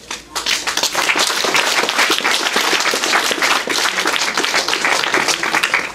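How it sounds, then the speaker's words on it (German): A crowd at the opening of a children's house in Woltersdorf breaks into applause, a sudden, loud, sustained burst of clapping that stays close and even throughout. "einen riesen Applaus wert"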